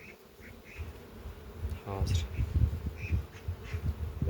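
Honeybees buzz around an opened beehive while queen bees are being handled. The buzzing is close and continuous under a man's speech.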